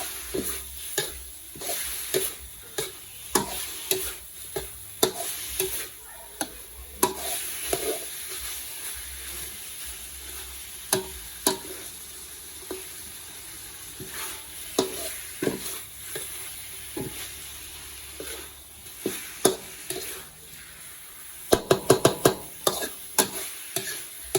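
Pork stirred and frying in a pan for a home-cooked meal, with a steady sizzle under repeated scraping and clacking of the utensil against the pan, close and continuous, ending in a quick run of taps.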